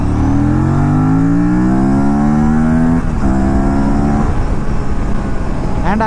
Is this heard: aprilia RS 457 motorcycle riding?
yes